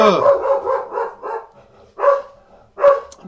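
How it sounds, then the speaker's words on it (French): Excited dogs bark in a rapid burst of several close, loud woofs, then two more separate barks after short pauses, with no talking over them. "Alors, les chiens sont complètement excités."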